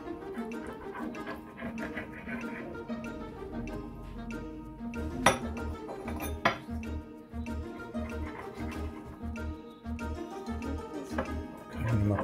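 Homemade pizza being cut into quarters for children, with clinks and clatter of a knife or cutter against a plate or pan and two sharper knocks near the middle, over steady kitchen background noise.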